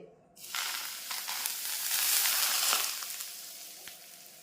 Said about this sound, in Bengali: উপর থেকে ফুটন্ত গরম তেল